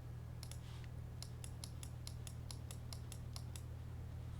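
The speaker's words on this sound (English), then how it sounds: "Shuffle the decks." Card game decks being shuffled, a quick series of about a dozen crisp riffling snaps in a steady rhythm, close but faint over a constant low hum.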